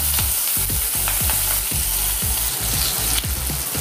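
Chopped tomato fries with onion in a pan as a spatula stirs it in quick rhythmic scrapes, roughly four per second, over a loud, continuous sizzle.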